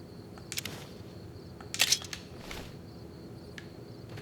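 A camera snapping a selfie in the Fallout: New Vegas video game: a brief shutter-like burst near the middle, with a softer click just before it and another faint one later, over a low, steady game ambience.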